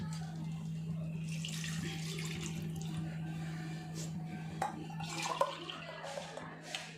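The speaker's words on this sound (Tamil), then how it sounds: "இப்போ வந்து நம்ம தண்ணி ஊற்றிடலாம்." Water streams steadily into a cooking pot for mint biryani, a continuous splashing pour over a low steady hum, faint and close, with a few clinks near the end.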